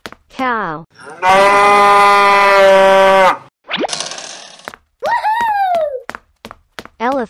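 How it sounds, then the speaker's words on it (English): Cow mooing: one long, loud, droning moo lasts about two seconds, close and steady. Springy boing-like effects and short rising and falling calls come before and after it. "Cow."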